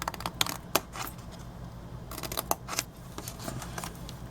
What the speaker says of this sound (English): cut out a little like triangle piece there